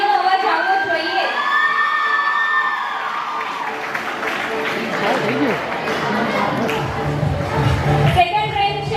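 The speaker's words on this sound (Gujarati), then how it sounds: "તાળીઓનો અવાજ આવવો જોઈએ." Children cheer and shout with an audience applauding at a pre-school prize ceremony, a lively crowd din with bursts of claps and excited young voices, fairly loud and close.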